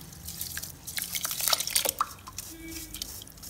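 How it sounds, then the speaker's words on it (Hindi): Small grains patter and splash into water in a quick scattered burst, then a brief soft bubbling, close by. "इस पानी में मैं ये किनवा डाल देती हूँ"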